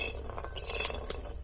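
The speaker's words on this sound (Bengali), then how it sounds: "আমি 3-4 মিনিট মতো শুকনো কড়াই নেড়ে নিয়েছি।" Jackfruit seeds stirred in a dry kadai, a steady scraping clatter of seeds and spatula against the metal pan with light clinks, close and continuous.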